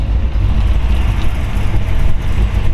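A 1934 Ford Woody Wagon street rod sits idling, its engine giving a loud, steady, low rumble heard up close with no talking over it.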